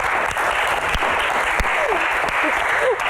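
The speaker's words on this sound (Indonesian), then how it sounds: "Tepuk tangan dong." Stage audience clapping at a Q&A show, a broad steady wash of applause with a few scattered louder hand claps and brief voices calling out over it.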